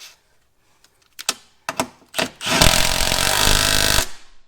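Jam nut on a Jeep Cherokee long arm lift being tightened: a few sharp clanks and ratchet clicks, then a loud continuous buzzing power-tool burst of about a second and a half, close by.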